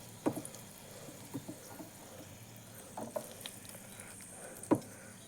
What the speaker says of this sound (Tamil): இந்த கூடவே சின்ன வெங்காயம் தக்காளி எல்லாம் சேர்த்து நல்லா வதக்கிக்கலாம்